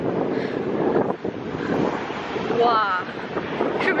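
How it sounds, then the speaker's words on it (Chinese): Big sea waves surge and crash on Busan beach during a typhoon while strong wind buffets the microphone, a rough continuous roar with a brief exclamation from a voice. "今天因为一天刮台风，所以说其实浪还是比较大的"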